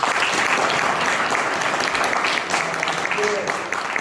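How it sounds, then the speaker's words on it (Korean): An audience at a book concert in Ansan breaks into loud, steady applause, a dense wash of clapping that carries on for several seconds before starting to thin out. "박수 한번 쳐주시죠."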